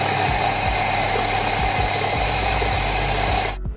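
An electric coffee grinder grinds coffee beans with a loud, steady whirring drone and faint rattling of beans, then cuts off abruptly at the end.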